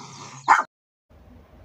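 A small female dog barks at arriving visitors near a farm gate, one sharp close bark followed by a brief pause and quieter background noise.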